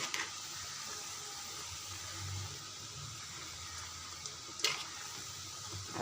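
Eggs frying and foaming in hot oil, a soft steady sizzle at low level with a couple of faint clicks or scrapes near the end.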